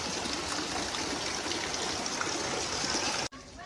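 Steady broadband rush of falling rain and running water, loud and continuous, cutting off abruptly near the end.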